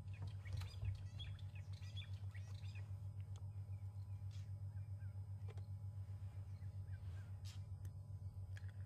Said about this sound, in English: those little birds that are harassing them are fork-tailed drongos